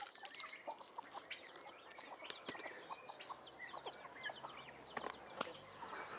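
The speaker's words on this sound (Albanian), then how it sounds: "Unë fakt kam 30 pula. 4 gjela" A backyard flock of about thirty hens and four roosters gives scattered clucks and short calls, fairly faint and spread across the space, with an occasional wing flutter.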